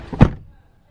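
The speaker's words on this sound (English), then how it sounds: "Let me just close the door." A Lamborghini Urus four-seater rear door swings shut with a single solid, muffled thunk close by, fading quickly into quiet.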